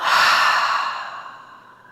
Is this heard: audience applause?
no